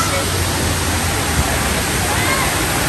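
Broad steady rushing roar of a natural waterfall at a picnic spot in a rural hometown, constant and loud throughout with no pauses.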